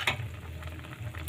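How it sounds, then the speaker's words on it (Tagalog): Chicken adobo with potatoes being stirred in a pan gives a soft, continuous sizzle with a scrape of the spoon at the start and again at the end, close and fairly quiet. "Haluin natin."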